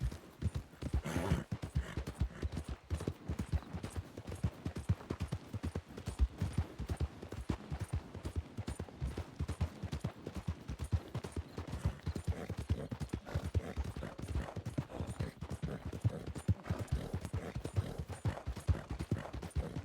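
Rapid, steady clip-clop of video game horse hooves galloping, loud and close, pounding on without pause from start to finish.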